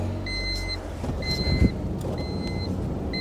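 A Honda Civic towing a Yamaha SRV 540 snowmobile, a steady car engine hum and rumble close by, with repeated high electronic beeps cutting in and out over it.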